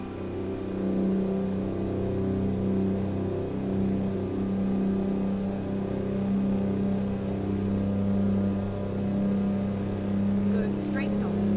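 Peterbilt 389 truck engine in American Truck Simulator, a steady loud low drone running throughout while driving at speed, with someone talking over it.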